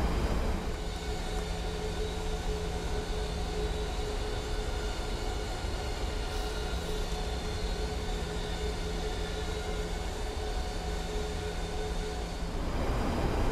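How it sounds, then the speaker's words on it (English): Boeing 737 landing gear lowering in a flight simulator game, heard as a steady loud mechanical rumble and whine under constant cockpit engine noise, swelling slightly near the end. "press this lever down to lower the landing gear"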